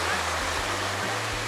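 The Polikar waterfall roars with a steady, broadband rush of falling water, heard on a hike up toward it. It sounds loud and continuous, and a low voice murmurs faintly underneath.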